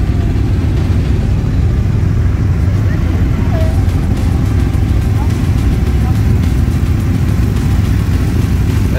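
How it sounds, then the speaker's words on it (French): Motorcycle engines idle and rev at an off-road riding festival, a steady loud mechanical drone running throughout with voices talking over it. "Il y a de la très très belle moto."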